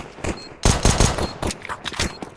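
Gunfire rattles in a Counter-Strike style shooter game, a rapid fusillade of loud sharp shots in quick clustered bursts, close and dense, lasting a couple of seconds.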